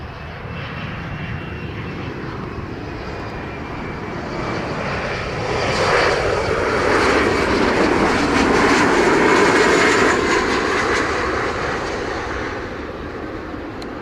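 A fixed-wing aircraft approaches runway 07 at Montego Bay airport in Jamaica, its engine roar swelling as it draws near, peaking loudly, then easing off as it passes.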